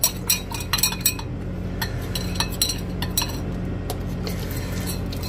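A stir stick clinking against a glass holding leftover nitric acid solution, rapid repeated glassy taps and clinks, close and fairly loud over a low hum.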